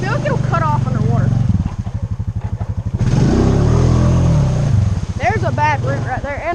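A Honda four-wheeler engine chugs and revs loudly up close as it drives through a deep water hole, the motor surging and splashing midway, with people talking over it near the start and end.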